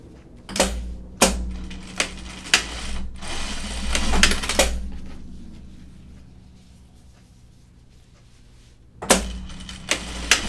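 Short bursts from a home sewing machine stitching Burnside Bibs, clattering in quick runs with a long quiet gap midway before stitching resumes; sharp clicks punctuate the runs.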